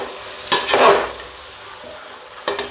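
Vegetables for a veg biryani sauté in a pan over low heat, with a soft sizzle under two brief scraping stirs, one near the start and one at the end, and no talk.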